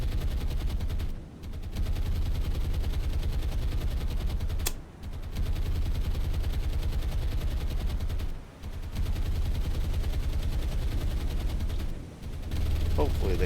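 Two heavy cruisers pound a battleship with naval gunfire in the War on the Sea video game, a dense, continuous roar of rapid booming shots that drops out briefly every few seconds before resuming at full loudness.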